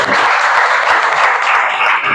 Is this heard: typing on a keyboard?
no